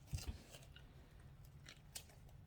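Scissors snip through a painted oyster shell in a few quiet, crisp cuts, close by and faint, with no voices.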